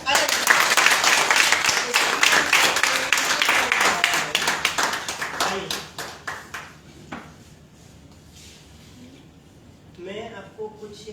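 An audience at a full-day workshop claps loudly for a speaker, dense applause that gradually thins into scattered claps and fades out, followed by faint voices near the end.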